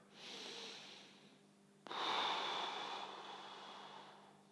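Slow, airy breaths go in and out at close range during a gentle massage under the ribs over the diaphragm. One soft breath is followed by a fuller, louder one, and nobody speaks.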